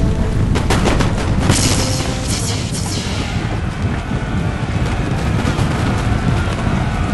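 Musket volleys and booming gunfire in the video game Empire: Total War, a dense rumbling battle wash with a cluster of sharp cracks near the start that settles into a steady, loud roar of distant firing.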